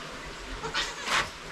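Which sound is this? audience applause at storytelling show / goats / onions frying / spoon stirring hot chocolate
goats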